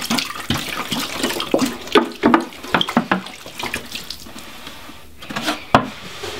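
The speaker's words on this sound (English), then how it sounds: "So I'm just going to pour the water in, and I have it in this 14-gallon Sterilite tub." Water pouring into a 14-gallon Sterilite plastic tub, a loud continuous splashing gush with irregular bursts, close by and alone.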